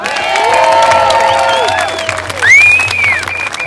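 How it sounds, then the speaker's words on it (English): A crowd at a truckers' protest in Canberra applauds and cheers loudly, with clapping, shouts and a whistle-like call rising out of the sustained noise. "Come on, I want to hear a clap here."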